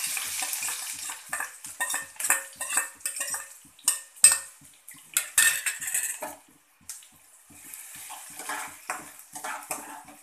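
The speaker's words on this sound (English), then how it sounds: "And fry till the onion gets cooked." Chopped onion fries with mustard seeds in a pan, with a crackly sizzle broken up by rhythmic metal spoon scrapes and clinks against the pan, then calmer frying near the end.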